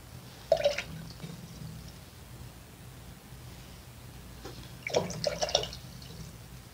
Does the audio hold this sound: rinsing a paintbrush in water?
yes